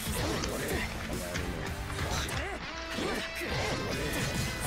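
Bomb attack striking in a fighting video game, a loud crashing smash with whooshing effects and dense game sounds throughout, with a voice talking over it.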